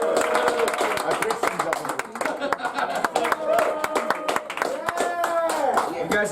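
Comedy club audience at L'etage clapping in scattered, uneven bursts of hand claps under a comedian's ongoing talk and some crowd voices.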